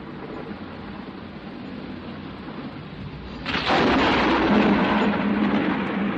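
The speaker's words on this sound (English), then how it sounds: "A mighty thunderclap broke my deep slumber" A mighty thunderclap in a dramatized Dante's Inferno scene breaks over a steady rain-like hiss, a sudden loud rumbling crash that sustains to the end.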